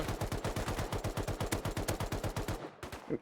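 Rapid automatic gunfire in the survival video game Rust, a dense burst of evenly spaced loud shots for about two and a half seconds, then a brief pause and a couple of final shots.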